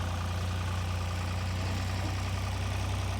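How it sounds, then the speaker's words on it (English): A large tractor with half-worn tires pulls an extreme duty landscape rake, its engine holding a steady, deep, loud drone with a faint regular knock and no talking. "As you can tell, he's spinning a little bit with that tractor, but it's a larger tractor"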